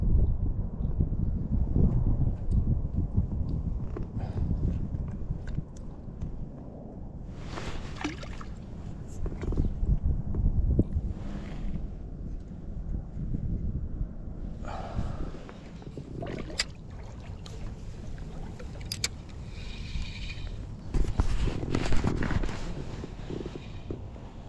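Wind outdoors by a gravel-pit lake, rumbling against the microphone in uneven gusts, with occasional brighter bursts of movement and handling noise mixed in.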